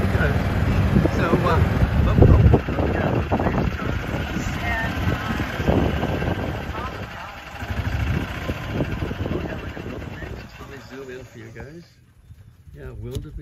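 A golf cart drives along an outdoor safari track among wildebeest and impala, its steady motor hum mixed with heavy wind buffeting and rough rolling noise, with voices in the background.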